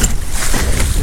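Lake waves slap and splash water over the side of a small fishing boat while trolling, a steady close wash of water noise mixed with wind for about a second.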